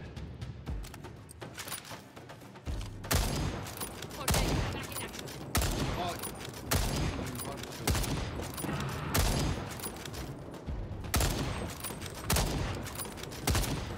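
Sustained automatic gunfire aimed at a T-Rex in the dinosaur-hunting game Second Extinction, loud continuous bursts with short pauses between volleys, running the whole stretch with faint voices underneath.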